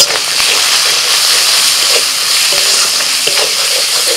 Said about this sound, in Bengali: পেঁয়াজটা একটু ভেজে দিয়ে দিচ্ছি শুকনো লঙ্কা জিরে বাটা